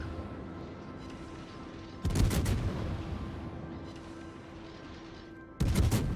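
Gunfire in a video game, two sudden loud bursts of shots breaking through a quieter hum-filled background.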